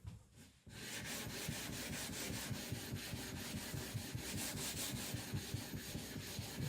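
A Victorinox Chinese cleaver being thinned and sharpened on a stone gives steady, rhythmic rubbing strokes, close and continuous after a brief quiet start.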